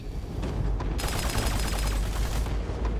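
Airstrike barrage in the Battleborn video game: a dense, roaring run of rapid blasts and crackling impacts that swells suddenly, holds for about a second and a half, then thins into a lingering rumble.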